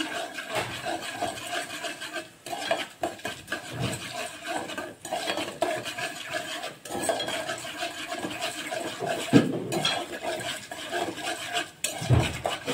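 Dried red chillies fry in a pan for an eggplant curry, giving a continuous close sizzle and hiss mixed with rough scraping and stirring against the pan.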